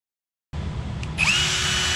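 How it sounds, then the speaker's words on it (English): A handheld power drill starts up after a moment of silence and runs steadily at close range, its whine rising slightly in pitch partway through, with no voices. "Power tools."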